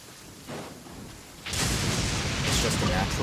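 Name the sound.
rain in the video game Genshin Impact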